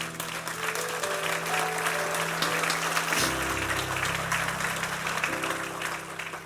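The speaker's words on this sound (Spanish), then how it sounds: "Dale un aplauso al Señor." Congregation applauding during a Spanish-language church service, a steady dense wash of clapping held over sustained organ or keyboard tones that shift pitch midway, continuing throughout.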